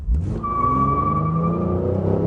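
Mitsubishi Eclipse Spyder with the V6 engine accelerating hard, a loud, steady rising engine note with whining harmonics climbing in pitch throughout, heard close with no talking.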